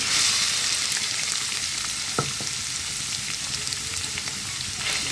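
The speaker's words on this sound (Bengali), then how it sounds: "তেলটা গরম হয়ে গিয়েছে, এখন আমি দিয়ে দেব।" A fish mixture is dropped into hot oil and fries with a loud, continuous close sizzle and crackle, plus a few faint utensil clicks.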